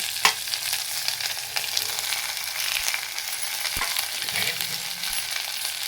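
Finely chopped okra fries in a pan, giving a steady, moderately quiet sizzle with occasional spoon knocks and stirring scrapes, close by and without talk.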